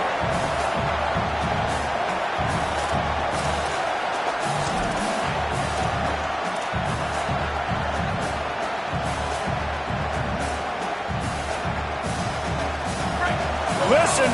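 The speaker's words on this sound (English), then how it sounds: "Listen to this crowd just shaking the girders of this place, trying to help their defense." A large crowd roars steadily in a big open college football stadium, a continuous wash of cheering and noise with a commentator talking over it throughout.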